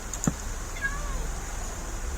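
A cat meows once, brief and fairly faint, in the Minecraft video game while building a pet house, over a low background hum.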